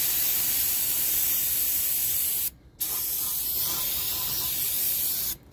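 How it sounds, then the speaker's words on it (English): Brake cleaner hisses from an aerosol can onto a rear brake backing plate in two long, steady, close sprays separated by a brief pause. "Time to use the brake clean."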